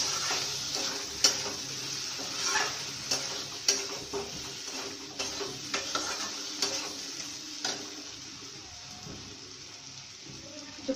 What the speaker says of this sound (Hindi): थोड़ा सा फिर इसको भून दे रहिएगा।